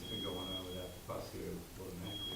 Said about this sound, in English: Is that the smoke alarm?